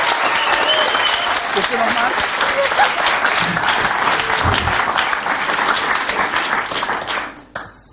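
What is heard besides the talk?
audience clapping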